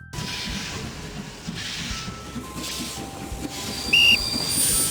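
A steady rumbling, clattering train runs throughout a kids' train racing video game, with a brief high whistle-like tone near the end over the continuous rolling sound.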